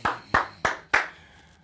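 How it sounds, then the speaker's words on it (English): Four sharp, loud hand claps in a steady, evenly spaced rhythm, close by, with a short decay after the last one, celebrating Ohio State's national championship win over Notre Dame. "Clap it up, clap it up, clap it up."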